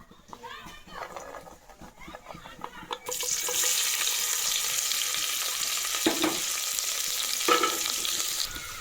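Onions frying and being stirred in a pan with cumin seeds for chicken; after a quiet start with spoken voice, a loud sustained sizzle bursts in and continues, broken by scraping stirs.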